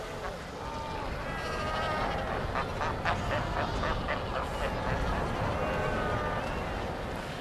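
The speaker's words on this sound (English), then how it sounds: "Cape fur seal bulls squabble over territories and their females within them" Cape fur seal bulls squabble over territory on the African coast, a dense chorus of honking, bleating calls over steady surf-like background noise, moderately loud and continuous.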